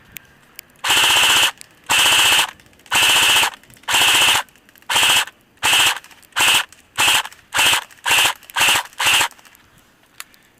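An Echo1 Red Star AK47 airsoft gun fires outdoors in repeated loud, close automatic bursts, the first several long and the later ones shorter and quicker, with brief silences between and no talking.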